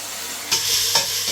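Tomatoes with salt sauté in a pan for Arabian chicken kabsa, a steady sizzle broken by two sharp scrapes of a stirring spoon, close and with no talk.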